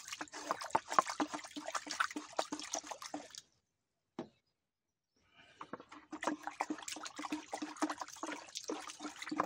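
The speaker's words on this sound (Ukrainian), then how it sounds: "Так, все розмішано" About 50 ml of grapevine spray preparation being stirred into water, with steady close sloshing and trickling liquid that stops briefly midway, then resumes.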